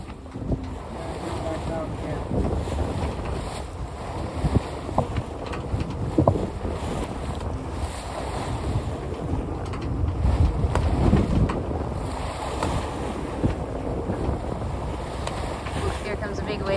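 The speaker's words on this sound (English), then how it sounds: "Here comes a big wave." A sailboat underway off Holbox in a northerly wind, with steady wind roar buffeting the microphone and the wash of waves around the hull, surging louder near the end as a bigger wave builds and passes.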